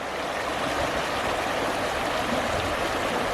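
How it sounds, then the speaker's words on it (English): A small moss-covered waterfall in Henry's Woods at Jacobsburg State Park, Pennsylvania, trickles through a narrow gap into a stream, making a steady, close rushing babble with no voices. "waterfall just trickling right down through that little gap right there"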